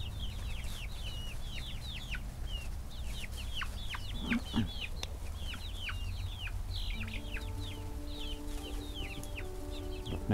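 Chickens gather while being fed blueberries, giving repeated soft clucks and chirpy calls across the whole stretch, with a light background hum and a few brief thumps.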